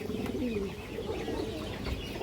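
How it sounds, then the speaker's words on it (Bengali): A female Kajla Putti pigeon coos in soft, repeated low rolling calls, close by and alone with no talking over it. "এই যে দেখেন কাজলা পুট্টির একটা মাদি কবুতর, একদম রানিং একটা মাদি।"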